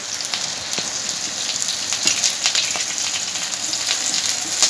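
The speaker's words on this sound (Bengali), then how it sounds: "আদাটা একটু আমি ভেজে নিচ্ছি। দিয়ে দিচ্ছি কারি পাতা" Ginger paste and curry leaves frying in a pan give a steady, close crackling sizzle with scattered sharp pops over a dense hiss, continuous for the whole stretch with no voices.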